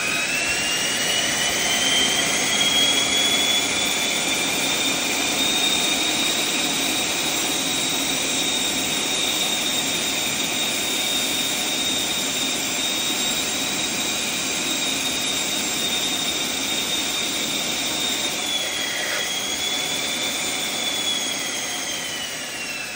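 One model aircraft electric motor runs steadily at close to half throttle, giving a loud continuous whine with a high tone that holds steady and then wavers briefly near the end, with no talk.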